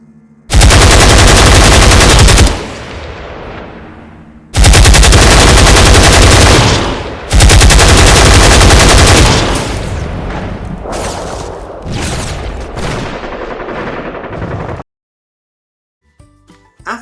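Gunfire rages in an animated battle scene, with long, loud bursts of rapid automatic fire repeating with short gaps, then a thinner, more scattered stretch before it drops to near silence.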